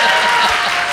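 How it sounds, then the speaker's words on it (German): Applause from a congregation during a sermon by a pastor, a steady dense clapping that fills the whole second at close range without a break. "an diese Applaus merkt man"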